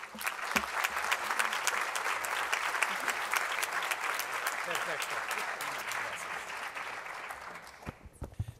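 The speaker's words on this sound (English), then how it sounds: "Please give them a round of applause" Conference audience applauds a speaker, a full round of clapping filling the room at a steady level for about seven seconds before thinning out into a few last claps.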